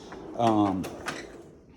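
A technician's metal toolbox drawer holding wrenches slides open in one short rolling, rattling pull, followed by a couple of light clicks and knocks.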